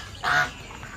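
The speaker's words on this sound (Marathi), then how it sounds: "बदक आहेत." A single short quack from a duck kept alongside chickens and rabbits at a seafood eatery in Shrivardhan on the Konkan coast, fairly close over faint background noise.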